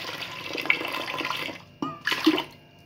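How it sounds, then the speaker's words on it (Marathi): Water pours and splashes into a pressure cooker holding washed lentils for dal khichdi, a steady running stream that breaks off, then returns in two short splashy bursts, close by. "याच्यामध्ये आपण पाणी ओतून घ्यायचे।"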